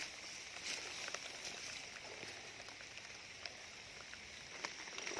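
Soft, steady patter of light rain with scattered faint drops ticking on a surface, continuous and even throughout.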